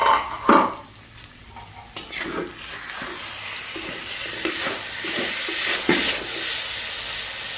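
A lid comes off a pot of palua aloo masala fry, giving a sharp metallic clank near the start and a few lighter knocks, followed by a steady low sizzle and bubbling from the pan, with a voice faintly present.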